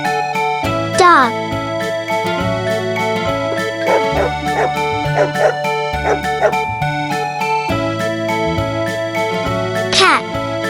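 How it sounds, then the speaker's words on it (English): A dog barks a few times over bright, jingly children's music, with the short barks half buried under the steady tune. "dog,"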